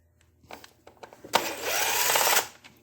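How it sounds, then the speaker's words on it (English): A power gun runs Torx bolts out of the ignition coils on a 2009 Dodge Caliber, a short burst of high whirring after a few light clicks and taps, close and fairly loud, then stopping. "I'm just using this gun to run them out."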